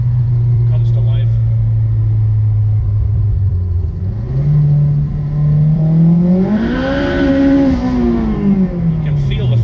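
A small, light AWD turbocharged car engine revs up from a low idle, pitch climbing and rising again, with a rough rumble throughout.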